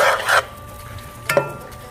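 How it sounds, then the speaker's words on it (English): A spoon stirs chorai bhaji curry with achar oil in a pot, making two short, close scraping strokes separated by a quiet pause with a faint background hum. "And sometimes they get a nice stir."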